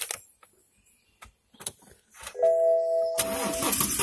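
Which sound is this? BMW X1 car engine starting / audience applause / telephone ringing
BMW X1 car engine starting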